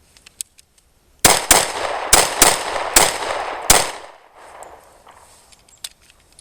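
A Springfield XDs pistol fires six sharp gunshots in quick, uneven succession, loud and close, with brief ringing decay after each shot and quiet before and after.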